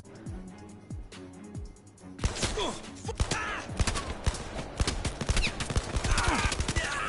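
Gunfire in the virtual reality shooter Blood and Truth, rapid bursts of sharp shots and impacts crowding the second half after a quieter opening, loud and dense with game effects around them.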